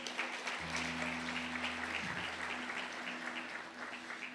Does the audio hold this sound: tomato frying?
no